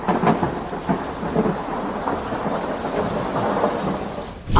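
A heavy thunderstorm with steady loud rain and rolling thunder rumbles, plus a sharp crack right at the end, and no one speaks.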